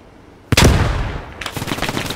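Gunfire laid down as cover fire in the WWII shooter Squad 44: a loud, close shot opens a burst, then a second volley of rapid machine-gun fire rattles on, with no talking.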